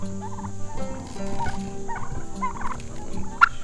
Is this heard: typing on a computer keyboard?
no